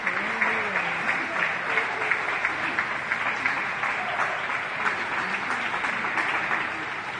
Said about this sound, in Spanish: los argentinos salieron esta tarde a sus ventanas, balcones y terrazas a aplaudir a sus profesionales de la salud que luchan contra el coronavirus